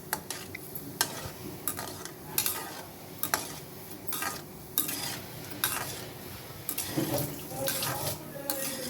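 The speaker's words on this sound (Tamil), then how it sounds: "இந்த மாதிரி மீடியம் ஃப்ளேமில் வச்சு நம்ம கோல்டன் ப்ரௌன் வர வரைக்கும் நல்லா பொரிச்சிக்கலாம்." Gulab jamun balls fry in oil over a medium flame, a soft continuous sizzle broken by regular clinks and scrapes of a utensil stirring them around the pan, faint and close, with no talking.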